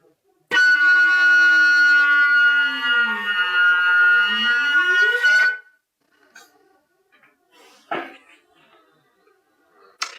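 A flute holds one bright sustained note while a voice sings a sliding glissando beneath it for about five seconds, followed by quiet and a few soft knocks.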